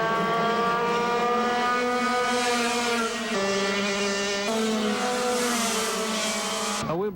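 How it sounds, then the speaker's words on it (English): Go-kart engines roar at the Jacksonville Beach Grand Prix, a loud, sustained high-pitched whine that shifts pitch as the karts accelerate and change gear, and ends in an abrupt cut. "in Jacksonville Beach this weekend, you could hear the roar of engines all day long"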